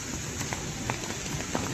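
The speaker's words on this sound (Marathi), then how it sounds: "एवढा पाऊस पडतोय, एवढा जोरात पाऊस आहे आपल्या इथं" Heavy rain pouring down in Baner–Balewadi, Pune, a steady broadband wash dotted with splashy drops and patters, fairly soft in level, with no speech.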